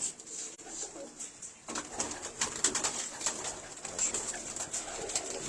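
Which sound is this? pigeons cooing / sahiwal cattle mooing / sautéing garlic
pigeons cooing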